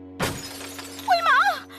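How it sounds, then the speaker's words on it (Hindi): Glass shatters in one sharp burst, followed by a brief warbling cartoon-style tone, loud and close in a short animated scene. "शीशा टूट जाएगा।"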